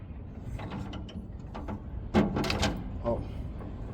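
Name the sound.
tightening bolts on Case CX210 excavator with torque wrench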